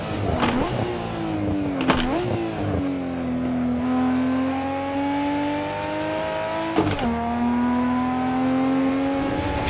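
A Nissan Skyline GT-R R34 in Assetto Corsa, driven on the Nordschleife, climbs steadily in pitch as the engine accelerates, with brief dips and crackles at quick gear shifts. The engine sound is loud and close, with no talking over it.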